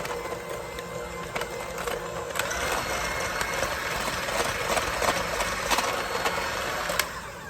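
An egg is mixed into peanut butter cookie dough with a steady, fairly quiet mechanical whir, marked by scattered clicks and knocks throughout, with no one talking.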